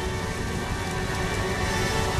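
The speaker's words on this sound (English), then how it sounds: "They've brought the rain." Steady, heavy rain pouring down continuously, a dense hiss with no voices.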